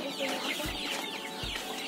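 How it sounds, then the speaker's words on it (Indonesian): Roosters on a small backyard farm in a cramped housing plot cluck and chatter continuously at close range, with two short low thumps standing out and no speech. "Di sini waktunya kita manen ayam pejantan, dipanen habis semuanya"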